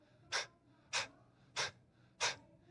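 Four deep, forceful breaths during a Wim Hof breathing exercise in a movement class, evenly spaced about every 0.6 seconds, each a sharp broadband rush of air, close and clear with no talking.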